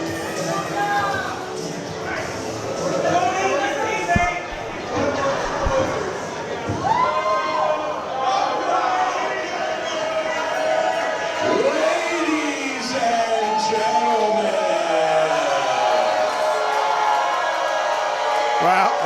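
A wrestling audience jeers and shouts at the wrestlers, a steady mass of overlapping voices with rising whistles and yells, fairly loud throughout.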